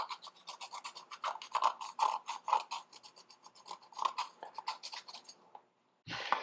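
Rapid bristle scrubbing on an old 1972 Honda CB350F brake caliper, a steady run of close, rasping back-and-forth strokes that stops briefly before a final burst of scrubbing.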